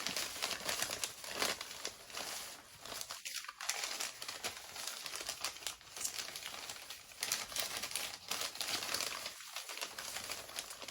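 Wrapping paper is folded tightly around a potted plant being packed for shipping. Soft, faint crinkling and rustling runs steadily throughout, with a few sharper crackles.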